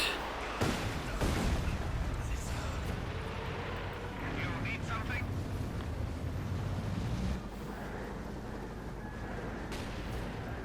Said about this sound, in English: Katyusha fires.